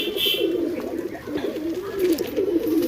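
Pigeons coo in a loft, a continuous low warbling coo from several nearby birds, steady throughout with no talk.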